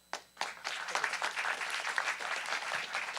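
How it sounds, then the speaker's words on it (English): A crowd applauds at a pitch competition, starting with a few sharp claps that quickly swell into steady, moderately quiet applause from many hands. "Round of applause for Neil and for all of our contestants"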